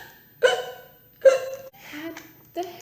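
A voice imitates a skeleton's hiccups while reading a silly Halloween picture book aloud: two sharp vocal hiccups, then a softer pair of hiccup-like squeaks, close and clear against quiet.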